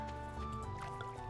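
In the Stardew Valley video game, a watering can is refilled with water, a soft gurgling, sloshing splash over a steady musical background, fairly quiet and continuous.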